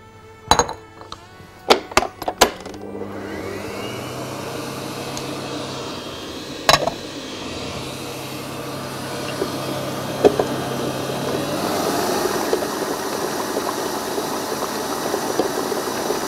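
An electric mixer runs steadily, blending a white chocolate cheesecake mixture for a red berry cheesecake. A few sharp clinks of utensils against a bowl come first, then a continuous motor whir that grows slightly louder toward the end, with no talking.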